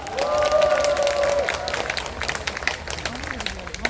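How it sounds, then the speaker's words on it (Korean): Applause from a crowd at an outdoor protest rally in Incheon over the metropolitan landfill, dense clapping mixed with a sustained tone and scattered voices, steady and fairly loud before thinning out. "대사를 열창하신 소발전의 김용식 회장님께 뜨거운 박수 부탁드리겠습니다."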